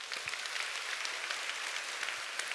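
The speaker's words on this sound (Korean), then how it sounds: "우리 박수 한번 쳐줄까요?" A seated audience at a lecture-style talk gives a steady, moderately faint round of applause, an even wash of many hands clapping with no talk over it.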